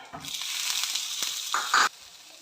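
Chopped tomato tipped into hot oil with fried chilli, shallots and curry leaves in a frying pan, giving a steady hiss and crackle that swells briefly near the end as the pieces hit the oil.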